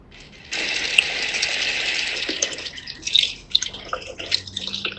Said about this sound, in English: they're getting, some warmer water into the little pan here